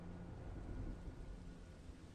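A thunderstorm with steady heavy rain hisses across the whole range while a deep thunder rumble rolls underneath and swells slightly midway, with no voices.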